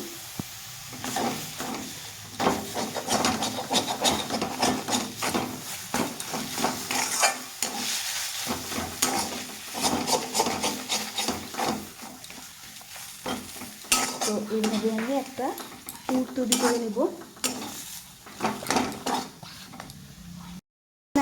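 A spoon stirs and scrapes a potato filling spiced with garam masala and chopped chili in a frying pan, rhythmic metallic clinks and scrapes over a soft sizzle, close and without speech.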